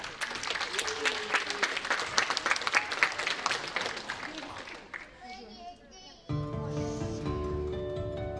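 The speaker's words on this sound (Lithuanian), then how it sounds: "Ir audringi jūsų plojimai mūsų artistams." Audience applause at an international circus competition festival, a dense crowd clapping in a sustained burst that fades out, then a few seconds of music with voices.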